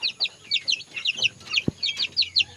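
Seven-day-old chicks, a Belgian Asil crossed with Burmese, keep up rapid high chirps and soft clucks in close quick bursts, with one brief low thump partway through.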